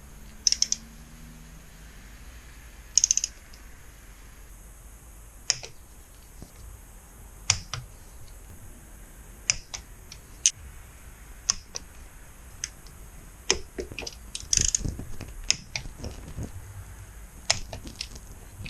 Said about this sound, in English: We're gonna torque it down once all the way around.